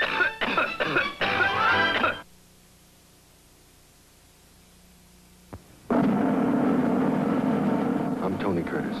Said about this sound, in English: smoking cigarette after cigarette and coughing his fool head off